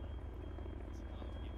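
Helicopter in the video game ArmA 3, a steady droning rotor and engine hum holding constant and fairly faint throughout, with no talk.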